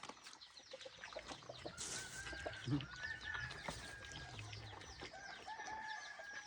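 Red junglefowl in a pen cluck and call in short repeated bursts, with a brief flurry of wing flapping and other birds chirping around them, moderately close against a quiet outdoor background.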